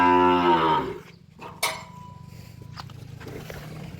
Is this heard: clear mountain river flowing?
no